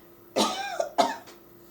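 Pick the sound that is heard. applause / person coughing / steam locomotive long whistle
person coughing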